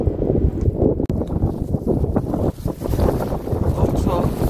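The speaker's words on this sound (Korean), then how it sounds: "바람이 많이 불어" Strong wind blows across an exposed hilltop, roaring and buffeting the microphone in a loud, continuous rumble with gusty swells, and faint voices are partly buried beneath it.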